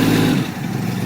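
A vehicle engine with a newly fitted carburetor, just adjusted at the idle mixture and idle speed screws, runs with a loud low rumble that eases and settles over a brief second, close by with no talking.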